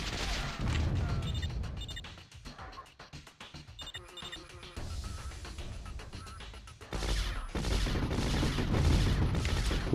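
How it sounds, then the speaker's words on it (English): Rockets and explosions in the Warzone 2100 strategy game, a dense, continuous barrage of blasts and crashes with heavy low rumble, loud and sustained throughout. "Yay, rockets!"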